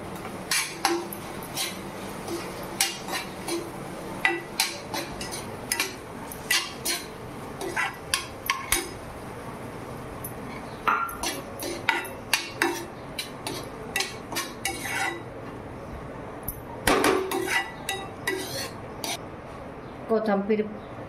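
Moth beans tipped into a pan of fried onion and tomato, with scattered clinks and scrapes of a spoon against the metal pan, close and moderately loud, under a speaking voice.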